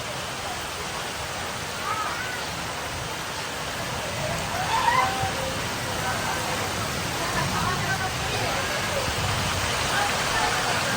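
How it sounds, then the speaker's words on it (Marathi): Heavy monsoon rain pours steadily over a Konkan village, a dense, even hiss that holds for the whole stretch, with faint voices murmuring underneath. "पावसाचा जोर खूप वाढलाय"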